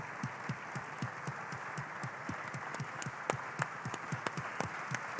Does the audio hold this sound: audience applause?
yes